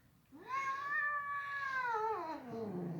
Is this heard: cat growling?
yes